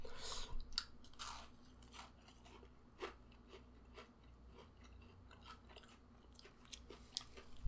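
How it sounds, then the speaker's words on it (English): A cookie is chewed close to the mic with soft, crisp crunches and bites. The chewing comes in irregular bursts in a quiet room with no talking. "You can probably hear a little bit of that crisp crunch"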